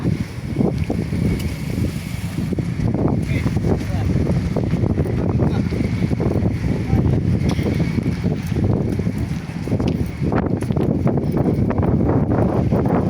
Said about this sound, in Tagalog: Ang hangin pa po dito.